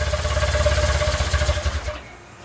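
A BMW R1200C motorcycle engine idling up close with a steady, rapid low pulsing thump for about two seconds, then cutting out abruptly into quiet.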